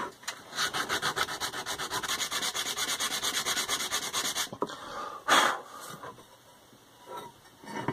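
Metal house numbers being rubbed to shine them up, a steady rhythmic scraping stroke repeated quickly and close for several seconds, then a few slower, irregular rubs and handling noises.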